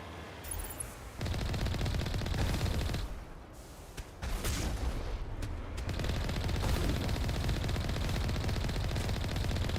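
Continuous automatic gunfire from weapons in the video game Mass Effect, a dense sustained barrage of rapid shots that briefly thins out midway before resuming at full intensity, with no talking.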